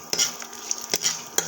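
A dried red chili fries in hot oil while tempering for a pudina chutney, giving a close, steady sizzle broken by sharp clinks of a spoon or ladle stirring against the pan.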